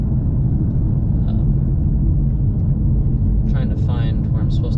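Traffic rumbles steadily, with a low constant drone of cars driving on a road, close and continuous, and a faint brief higher sound near the end.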